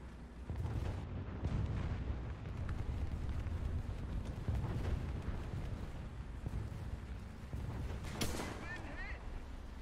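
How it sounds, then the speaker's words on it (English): A giant bomb explodes in War Thunder amid ongoing battle noise, a deep booming rumble mixed with repeated gunfire and blasts, while a voice talks over the chaos. "Giant bomb."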